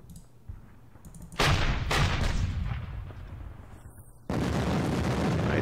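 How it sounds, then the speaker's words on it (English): Heavy artillery battery firing in the Stalingrad '42 wargame, a few loud, broad booming blasts with rumbling tails, one heavy burst near the start and another toward the end. "Heavy guns."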